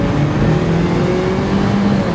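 Turbocharged 2008 Saab 9-3 Convertible accelerating hard with wheel spin, a loud, close, steady engine drone rising slightly in pitch inside the cabin.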